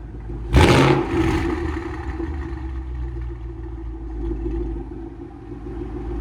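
A 2015 Ford Mustang GT 5.0L V8 with Valvetronic exhaust valves open, starting with a loud brief blip, then settling into a deep, steady, rumbling idle close by.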